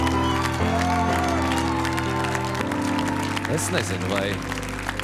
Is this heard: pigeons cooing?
no